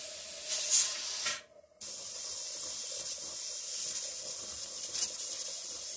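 A pressure canner full of stew vents steam before its 15-pound weight goes on, giving a steady, close hiss that cuts out abruptly for a split second and then resumes, continuous and moderately loud.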